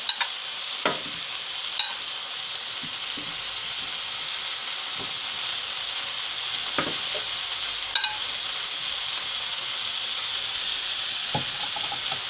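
Steak with asparagus and mushrooms fries in coconut oil in a pan, making a steady, bright sizzle. A few faint clinks and stirring scrapes break in now and then, and no one speaks.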